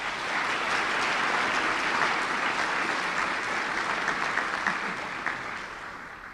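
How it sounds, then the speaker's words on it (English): A large audience at a college graduation ceremony claps steadily, a dense, sustained wash of applause that holds for several seconds before beginning to thin out toward the end. "let's give everyone a round of applause"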